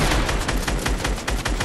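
Rapid bursts of gunfire aimed at a chopper in Fortnite, a quick run of closely spaced, punchy shots, loud and near with no talking.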